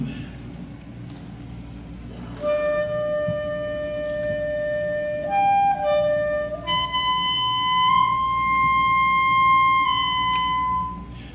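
A single sustained wind instrument played by a high school honors band member, playing the slow idée fixe melody from Symphonie fantastique. The notes are long and held, rising in pitch, clear against a quiet room hum.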